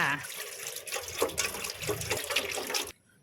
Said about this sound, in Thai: ตั้งหม้อใส่น้ำสะอาดลงไปค่ะ